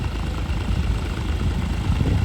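A tractor engine idles with a steady low rumble and broad mechanical hiss, fairly loud and unbroken throughout, with no voices.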